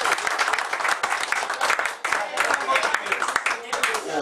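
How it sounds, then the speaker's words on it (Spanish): Audience applause for a player at a celebratory luncheon, dense steady clapping close by through the whole stretch, briefly dipping midway, with voices mixed in underneath. "Un aplauso para la jugador."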